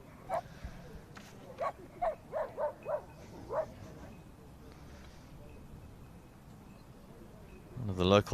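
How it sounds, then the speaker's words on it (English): A local dog carrying a cricket ball barks at a cricket ground during a USA versus Wales match in Chester, giving a series of short, moderately distant yips spaced about half a second apart, followed by a louder rustle close by. "One of the local dogs."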